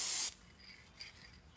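A short, close burst of aerosol spray hisses onto the curls of a beach wreath, then cuts off into near silence with a faint handling rustle.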